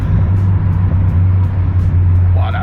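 A car engine idles with a steady deep hum close by, loud and continuous, with a short voice-like sound near the end.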